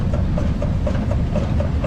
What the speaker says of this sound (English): we have a Rumley engine up next. It is also single cylinder